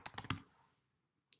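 A quick burst of a few keystrokes on a computer keyboard while entering accounting data, followed by silence and a single soft mouse click at the end, close and quiet.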